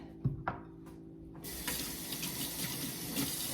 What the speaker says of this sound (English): rinse my top off of my mason jar